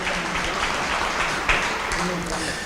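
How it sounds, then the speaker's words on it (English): A crowd at a celebration for the approval of a regional medical center applauds council members, a short, steady patter of clapping with voices mixed in. "please give them a round of applause for being here with us"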